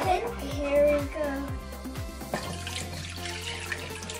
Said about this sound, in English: Careful, you might spill, but that's okay. It's just water.